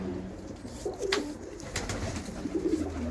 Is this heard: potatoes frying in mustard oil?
no